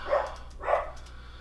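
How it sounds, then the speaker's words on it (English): A pet dog gives two muffled, mid-distance barks about half a second apart indoors, then falls quiet over a low room hum. "Sorry about my dog."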